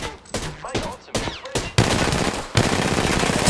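Gunfire in the video game Apex Legends: a few short separate shots, then dense rapid automatic bursts that build into continuous loud fire, close and alone without talking.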